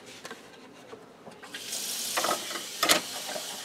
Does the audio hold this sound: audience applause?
no